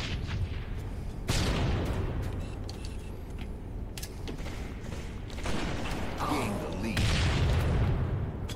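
A grenade explodes in a video game, loud booming blasts with crackling debris that recur several times amid other gunfire and mechanical game sounds, mixed with excited players' voices.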